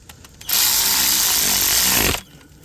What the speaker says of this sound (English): now we're gonna tighten that down, 13 millimeter